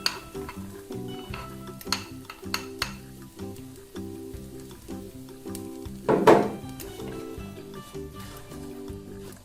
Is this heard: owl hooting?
no